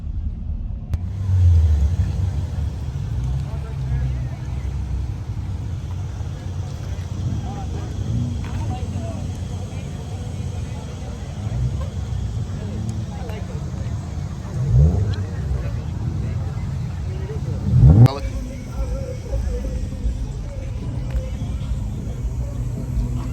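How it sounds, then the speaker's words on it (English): Continuous low rumble of car engines nearby at an invite-only car meet as cars roll in, with a couple of brief revving surges and passing vehicles, voices faintly under the noise. "we still got cars rolling in as we speak"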